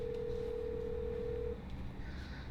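A steady single telephone tone, likely dialing, plays for about a second and a half before cutting off, leaving a low background hum as a call is placed to a veteran who won a Jeep for Christmas.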